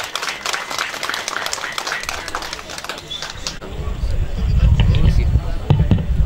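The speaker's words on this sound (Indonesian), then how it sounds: "Boleh tepuk tangan untuk Bapak Wakil Bupati kita." An audience at a traditional village ritual ceremony claps for a deputy regent, scattered hand claps in the first half giving way to louder, denser applause mixed with crowd noise and low thumps.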